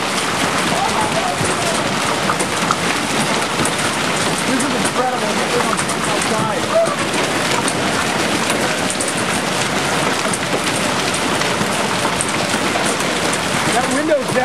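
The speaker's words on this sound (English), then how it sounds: "Oh, hail. Yeah, it's not a drop of rain." Hailstones pelt the ground and surfaces outdoors during an April 2008 hailstorm in Maysville, Oklahoma, making a dense, unbroken clatter that stays loud throughout as a person talks.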